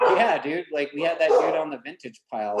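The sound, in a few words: dogs barking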